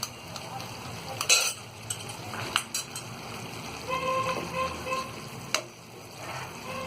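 Ginger garlic paste frying and being stirred in a pan for masala fish curry, a steady sizzle broken up by spatula scrapes and metallic clinks.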